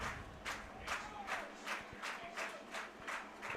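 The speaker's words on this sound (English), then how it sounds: "Larks fans starting to clap their hands." Baseball fans in the stands of a Hays Larks game clap in unison, a steady rhythmic beat of roughly two claps per second rising from a distant crowd, with faint ambient murmur underneath.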